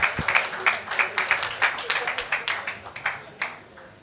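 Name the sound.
audience applause at a symposium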